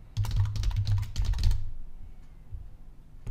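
A computer keyboard clatters in a quick burst of keystrokes for about a second and a half as a site name is typed, close and clear, then stops into near silence with faint room hum.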